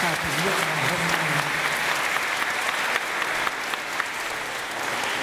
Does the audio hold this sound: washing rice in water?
no